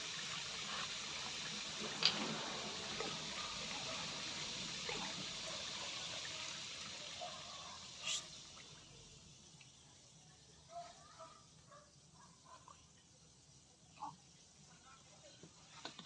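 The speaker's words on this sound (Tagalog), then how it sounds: "Tapos po, lagay po tayong toyo, which is soy sauce." Soy sauce pours into chicken adobo as a soft trickling liquid stream that fades after several seconds, followed by scattered light clinks, all fairly quiet, and a person speaks during it.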